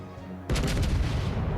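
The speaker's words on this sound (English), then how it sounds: "here come the bullets" Incoming gunfire in World of Warships Legends, a sudden burst of heavy booming shell fire that erupts after a quiet moment and keeps rumbling with layered blasts, loud and close.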